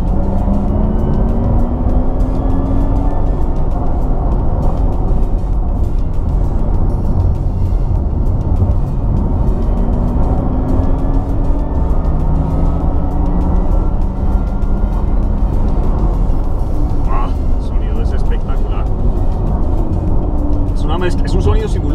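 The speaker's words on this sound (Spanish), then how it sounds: "Es un sonido simulado, es una mezcla de un sonido como los carros de la Fórmula I" A steady synthetic engine hum from a Porsche Taycan electric car's simulated engine sound rises and falls in pitch as the car accelerates, continuous and close, with a voice talking over it.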